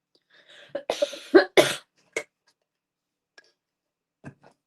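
A few harsh coughs in a quick cluster up close, followed by a quieter throat sound and near silence.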